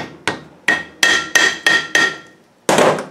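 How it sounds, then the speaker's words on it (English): A hammer taps a wheel bearing seal back into place on a Land Rover Defender, Discovery 1 or Range Rover Classic front hub, about eight sharp, close metallic blows in an uneven rhythm with brief ringing between them. "When you get a hammer, I'll put this seal back in because you didn't see it."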